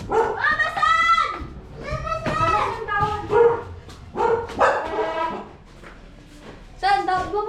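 A dog barks repeatedly in short bursts at close range, with the barks mixed in among people talking nearby, including a voice.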